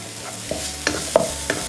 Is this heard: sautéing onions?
yes